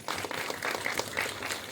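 Audience applause for a guest called onstage at a film trailer launch event, a brief burst of steady clapping from a crowd, filling the whole moment at moderate level.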